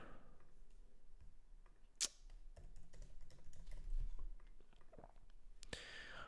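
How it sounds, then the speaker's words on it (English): Typing on a computer keyboard while searching for moisturizer products, a scattered run of soft key taps with one sharper click near the start and a louder burst toward the end, heard alone without talk. "So let's just type in moisturizer, right?"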